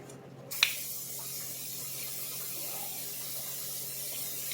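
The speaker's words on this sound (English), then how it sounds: "Spray a little bit of non-stick spray in a non-stick pan." A can of cooking spray hisses in one long continuous burst after a short click, close by and steady.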